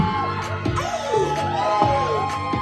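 A fiesta crowd at a village competition shouts and cheers loudly in repeated bursts of whoops and yells, close and lively throughout.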